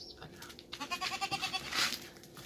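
An Alpine goat bleats in a run of quick, wavering pulses, fairly close and alone, ending in a brief higher cry.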